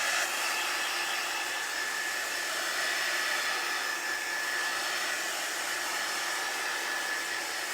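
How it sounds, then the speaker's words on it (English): Hair dryer blowing steadily at close range to dry acrylic paint on a Christmas tree canvas, a constant loud airy roar without breaks. "Let me hit it with the dryer."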